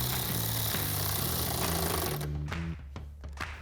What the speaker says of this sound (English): take your 10 millimeter socket, tighten down the first 2.